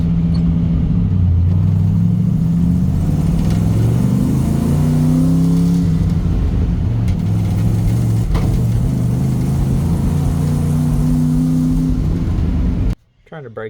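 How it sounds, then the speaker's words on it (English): A 1964 Chevrolet Suburban's carbureted engine runs loudly and revs up and down in rising and falling pitch sweeps, close by, with talking mixed in, cutting off sharply near the end. "that thing's still revved up"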